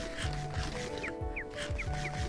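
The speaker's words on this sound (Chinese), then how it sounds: "有啾啾啾的声音" Repeated short chirping calls from a bird-like creature in the Minecraft Aether mod, several quick squeaky bursts coming in a loose rhythm over a layered game soundscape.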